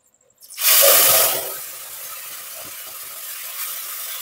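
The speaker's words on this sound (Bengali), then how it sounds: "হিংটা তেলের মধ্যে একটু ভেজে নেওয়ার পর আমি দিয়ে দিচ্ছি পেস্ট করে রাখা মশলাটা" Spice paste drops into hot oil already frying with asafoetida for a vegetarian dum aloo and erupts into a loud hissing sizzle, which settles into a steady, softer crackle that runs to the end.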